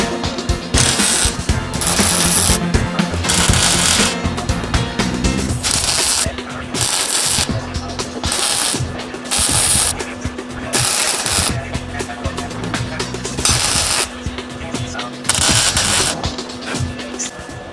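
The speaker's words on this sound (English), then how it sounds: "I just got to tack it in place and kind of bend it a little bit with a hammer as I tack it around." Short bursts of MIG tack welding crackle and buzz on a rust repair patch for a Datsun 240Z, loud and close, the bursts separated by brief pauses.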